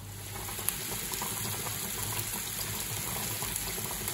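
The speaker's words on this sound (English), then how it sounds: "As you can see, the meatballs are sizzling in our pan." Meatballs frying in olive oil in a pan give a steady, dense sizzle close by, with a constant hiss and crackle running alone throughout.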